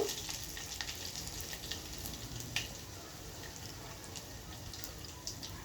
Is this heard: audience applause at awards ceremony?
no